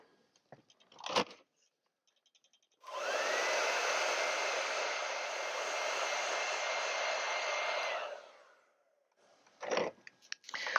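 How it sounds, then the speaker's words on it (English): A hair dryer blows steadily on acrylic paint for about five seconds, a loud even whoosh that starts and stops abruptly, with short brushing or tapping noises before and after. "Now I'm going to dry that."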